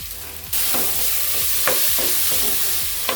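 Pork frying in a pan with browned onion, a loud steady sizzle that jumps up suddenly after a quiet start, with repeated scraping stirs and spatula taps running through it.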